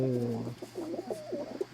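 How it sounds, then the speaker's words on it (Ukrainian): A checker-pattern pigeon coos close by in a few soft, throaty, rolling calls. "голуб черва"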